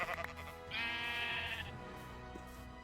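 Sheep in the Minecraft video game bleat in a short run of wavering cries, close and clear with no talking over them.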